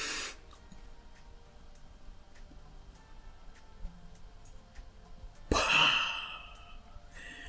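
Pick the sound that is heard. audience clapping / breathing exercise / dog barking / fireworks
breathing exercise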